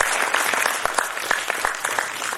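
Audience applause for a Kathak dance troupe at a creative dance performance, steady clapping with sharp individual claps standing out, fairly close and loud throughout.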